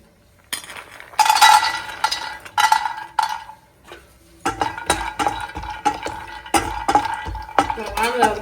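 Almonds and cashews being roasted in a hot pan with a little oil, stirred with a utensil: a near, repeated clinking of spoon against metal pan over a low sizzle, busier in the second half.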